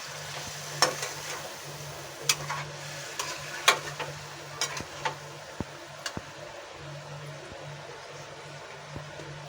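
A spoon stirs cauliflower and potato curry in a simmering pan, with irregular sharp scrapes and clicks against the metal over a continuous gentle sizzle, close and alone.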